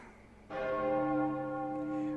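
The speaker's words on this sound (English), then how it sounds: "Ring that bell." A single bell struck once rings out with a bright, rich tone that hangs and slowly fades over the rest of the moment, with no talking.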